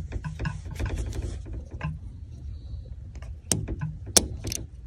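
A screw on the let-off module of a PSE compound bow cam is loosened with a tool, giving a few close, sharp metallic clicks and scrapes amid quiet handling noise.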